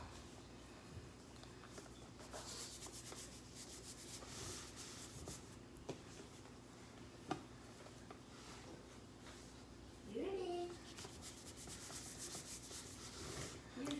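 Fondant covering a cake is rubbed smooth with shortening, a faint, steady soft rubbing and brushing texture with occasional light taps.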